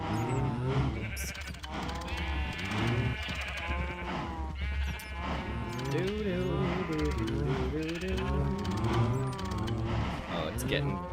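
Cows in a modded Minecraft (GTNH) game, many overlapping moos and bleating animal calls crowding together in a constant loud din for the whole stretch, with a voice speaking among them.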